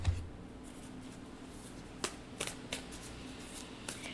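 Tarot cards being shuffled for a reading, a soft continuous riffle and slide of cards close by, with a few sharper flicks and taps near the end, quiet and without voices.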